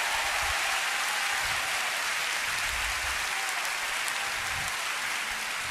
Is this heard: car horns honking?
no